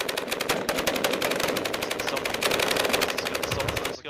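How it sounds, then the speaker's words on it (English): Rapid automatic gunfire in a military simulation video game, a steady stream of evenly spaced shots that runs loud and continuous and stops abruptly at the end. "there's gunfire and shit going on"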